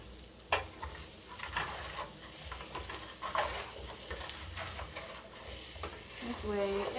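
Half a red onion sizzling in a frying pan for a vegetarian breakfast burrito, a close steady hiss with scraping stirs and a few utensil knocks, a faint tonal ring near the end.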